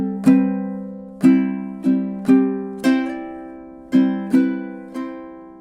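Fingerpicked ukulele melody, about nine plucked notes in a gently uneven rhythm, each ringing and decaying, played alone and up close.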